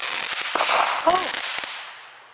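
A firework bursts with a crackling double bang, loud and close at first and then fading out, while a voice reacts briefly over it.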